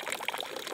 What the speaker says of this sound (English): you have everywhere these water things, and it's, I think, straight from the ground.